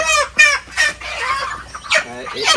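Chickens cluck on a friend's poultry farm in a village, several close, loud bursts of clucking in quick succession, with a voice faintly mixed in.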